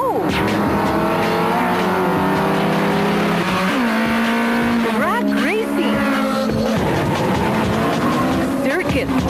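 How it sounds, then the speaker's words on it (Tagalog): Race cars roar past on a road, engines whining and shifting pitch up and down as they accelerate and speed by, loud and continuous, with voices talking over the engine noise. "At kapag umarangkada ng mga kotseng pangarera sa kalsada"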